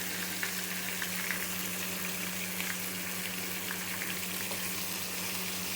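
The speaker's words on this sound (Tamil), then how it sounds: "நல்லா எண்ணெயில் வதங்கணும்." Chicken liver fries in oil, a dense, steady sizzle with faint crackles over a constant low hum throughout.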